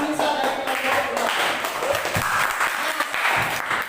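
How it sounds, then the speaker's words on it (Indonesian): Classroom applause from students for a classmate, Anissa, in a group activity: a steady wash of clapping from many hands, fairly close and continuous for several seconds. "kita kasih tepuk tangan dong buat Anissa"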